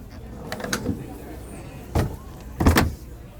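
A slide-out stove and drawers on an offroad trailer glide and thud shut, with several short sliding and knocking sounds, the loudest two near the end, close by and without talk.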